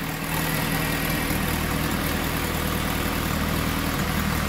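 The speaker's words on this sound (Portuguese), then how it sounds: "o motor tá com barulho até razoavelmente bom" A rebuilt Toyota Hilux engine with a new oil pump and timing belt idles steadily, a continuous close mechanical hum with an even low rumble and no voices.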